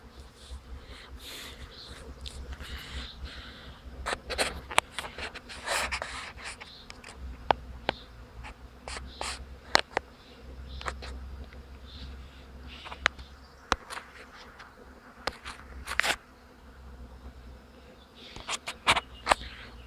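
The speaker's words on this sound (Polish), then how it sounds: "Jest jeden huk na pasiece." Honeybees buzz steadily in a dense, droning swarm at an apiary outdoors, with sharper close passes of individual bees flying near.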